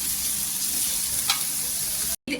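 Sliced onion and fresh curry leaves fry in hot oil with a dense, steady sizzle for a village-style dried fish and drumstick curry. One brief clink breaks through before a sudden cut.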